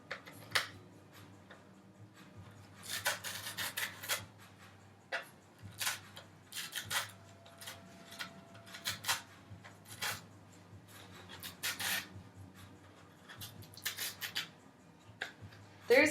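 A top layer is peeled off corrugated cardboard in a string of quiet, close tearing rasps and ticks, arriving in irregular bursts with short pauses between them.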